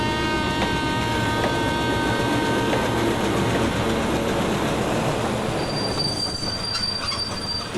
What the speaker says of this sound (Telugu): పదరా రైలు వెళ్ళిపోతుంది